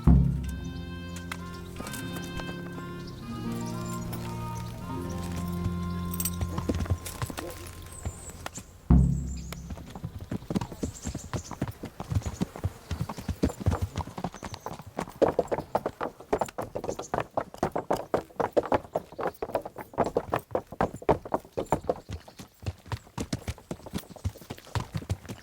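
Horse hooves in the medieval game Kingdom Come: Deliverance clip-clop steadily and close after a stretch of music and a soft thud, settling into a brisk, even trotting rhythm that carries on alone.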